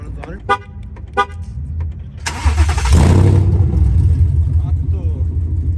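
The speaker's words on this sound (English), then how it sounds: "I want to hear your car." A car engine at a car meet starts with a loud burst, then settles into a deep, rumbling idle. Short horn-like toots sound before it, and people talk over the scene.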